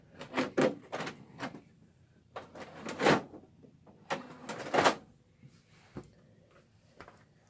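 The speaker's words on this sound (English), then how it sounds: "So let's load in a disc." An RCA CED videodisc player takes in a disc with a series of mechanical clunks, slides and whirring motor bursts, close and fairly quiet, spaced irregularly with short pauses.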